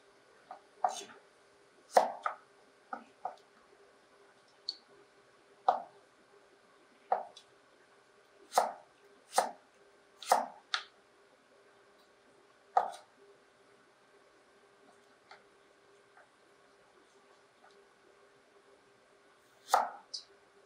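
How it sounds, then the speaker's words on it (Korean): Knife chopping carrots into fine julienne strips, likely on a cutting board, in uneven bursts of sharp close taps with short pauses between runs. "당근도 채 썰어서 손 조심하시고요"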